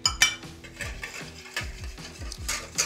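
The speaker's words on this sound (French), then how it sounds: "on va mélanger le lait entier et la crème épaisse" Whole milk and heavy cream being stirred together for éclair pastry cream, with repeated scraping, clinking stirs against the bowl at a steady rhythm, close and fairly quiet.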